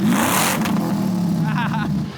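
Supercharged Chevrolet Silverado pickup with a modified exhaust revving hard, a loud, close, continuous roar with rising pitch and a raspy exhaust note, fading slightly at the end.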